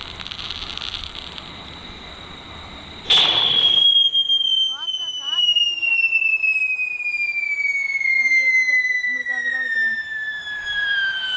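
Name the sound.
firecracker exploding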